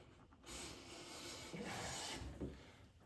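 A Lie-Nielsen No. 4 bench plane takes full-width shavings from a wood board in two long, close, hissing strokes, a soft rasping swish with no talking.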